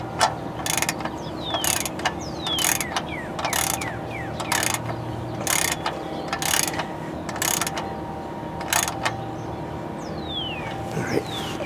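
A ratchet snugs up the oil drain plug on a 2011 Nissan Xterra, giving repeated short bursts of crisp metallic clicking at close range over a low steady background hum.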